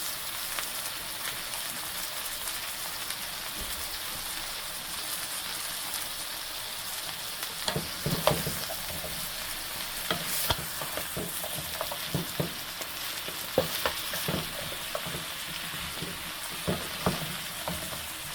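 Cauliflower and onion fry in a pan, a soft sizzle at first that turns busier as stirring begins, with repeated scraping and clacking of a spoon.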